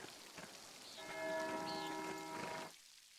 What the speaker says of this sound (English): You're now just stood in the rain.